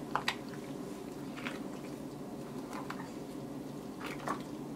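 Bread pudding ingredients with milk and sugar are mixed in a bowl, giving soft, quiet squishing and sloshing with a few light taps, steady and without talk.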